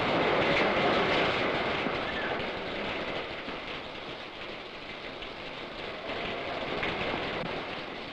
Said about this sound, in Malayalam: എന്തിനാ ഈ മഴയത്തിരിക്കുന്നേ?